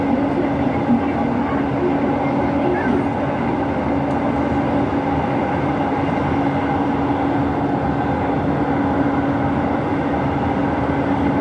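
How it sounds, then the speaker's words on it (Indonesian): A Jakarta LRT light rail train rolls along with a continuous rumbling drone and a faint steady hum, heard from inside the carriage. "kereta apinya itu kalau pas nikung-nikung agak pelan ya kecepatannya"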